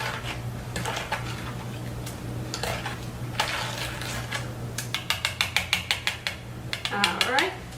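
A spoon mixes homemade peach ice cream base in a bowl, with a soft swishing that turns into a quick run of regular clinks against the bowl. A steady low hum sits underneath.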